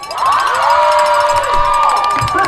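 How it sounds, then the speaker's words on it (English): A school audience cheers and whoops loudly in a sustained burst, many voices shouting together with rising excitement, near and continuous throughout. "If you would like us to end our show with DC, please cheer now."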